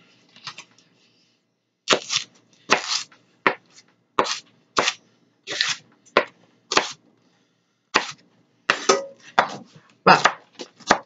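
A knife chops vegetables such as celery on a cutting board, with a long run of crisp, evenly spaced thwacks, close and clear, carrying on steadily for about ten seconds.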